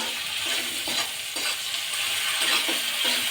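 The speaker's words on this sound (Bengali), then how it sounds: "তারপরে দেখো লঙ্কা বাটা দেবো তেলে দিলে লঙ্কা বাটাটা গরম হয় ভালো তাই তেলেই দিয়ে দিলাম" Chili paste is frying in hot oil with onions in a pan, giving a steady close sizzle throughout. Faint scraping strokes are mixed in as it is stirred.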